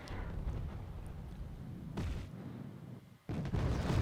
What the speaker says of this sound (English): Now we have our second artillery barrage that's focusing on this town